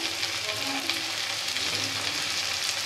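Mixed vegetables with capsicum fry in a pan for chicken chowmein, giving a dense, even sizzle up close that runs unbroken with faint stirring scrapes and no talking.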